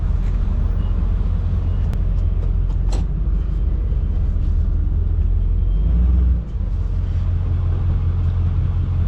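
A Ford 6.4 Powerstroke diesel truck rumbles steadily up close as it drives slowly and parks without power steering, a loud, continuous low engine drone with a brief dip near the end.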